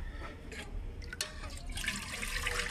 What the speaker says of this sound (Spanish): Ahora le vamos a echar agua para que vean ustedes que